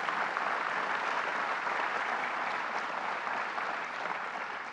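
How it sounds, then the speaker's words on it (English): A crowd at a governor's economic development announcement gives a sustained round of applause, a loud, dense, even wash of clapping that holds steady and tapers only slightly toward the end. "Let's give him another round of applause."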